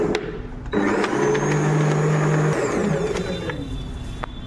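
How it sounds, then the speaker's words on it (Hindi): Kitchen mixer grinder blending a kheer shake, a loud steady whirring motor that starts abruptly, holds a strong hum for about two seconds, then winds down. "अच्छा, तो चलो अब इसको डायरेक्ट मिक्सर में ग्राइंड करते हैं,"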